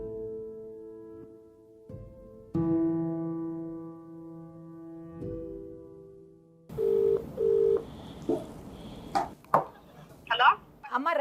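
A phone call is placed: a steady sustained tone hums for several seconds, then two short electronic beeps sound, followed by people speaking near the phone.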